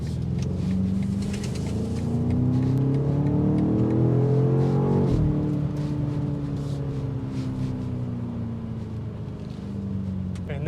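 BMW X5 M Competition engine revving on a test drive, a loud rising and falling growl with a sharp peak around the middle before settling into a steadier drone.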